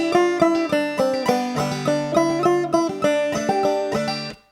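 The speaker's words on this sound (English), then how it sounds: "we can use Old Joe Clark as a perfect example of how to end a phrase with an alternate string pull off" Banjo playing Old Joe Clark, a bright run of plucked notes in a steady rolling rhythm that rings out and stops cleanly at the end, played alone with no talk.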